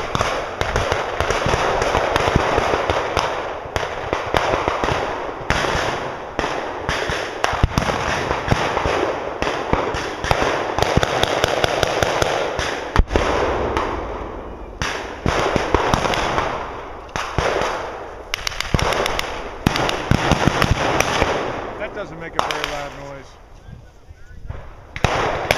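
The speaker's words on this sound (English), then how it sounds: "the AT gun's gonna take him out." Anti-tank gun and other weapons firing at an M20 armored car during a battle reenactment, sharp blank shots popping repeatedly near and far, with people talking in between.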